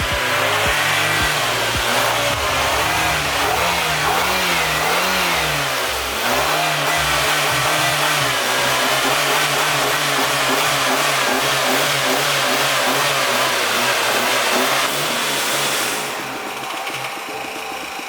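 A car engine doped with nacho cheese in place of oil revs hard and loud, rising and falling in repeated throttle surges over a rough, pulsing idle, close up throughout before easing slightly at the end.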